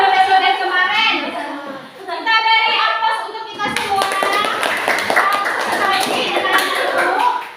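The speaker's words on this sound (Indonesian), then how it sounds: "Kita beri aplaus untuk kita semua" Children and a teacher in a classroom breaking into applause, a dense burst of clapping that rises after a short spoken prompt and continues with voices mixed in, close and lively.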